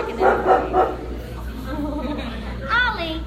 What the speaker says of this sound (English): A new dog here.